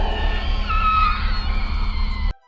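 Trapped people in a film let out a loud, sustained, shrill screeching that holds for about two seconds, then cuts off abruptly.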